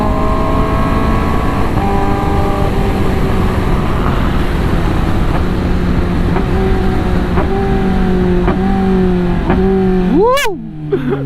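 Kawasaki ZX10R sport motorcycle engine revving hard under throttle, a loud, close, sustained high-pitched wail with rising and falling pitch and a sharp rev near the end, with wind rush throughout.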